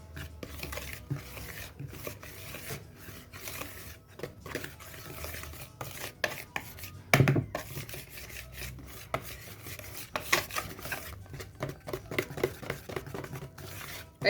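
Ingredients with a tiny pinch of baking soda are mixed in a bowl with soft, uneven scraping and rubbing strokes. They are faint and close, with an occasional louder knock partway through.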